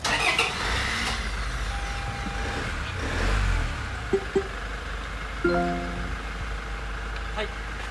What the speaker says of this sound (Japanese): じゃあ実際エンジンもかけていきます。